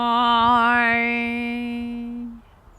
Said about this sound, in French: un son harmonique, c'est un son qui a une base et avec une mélodie par-dessus.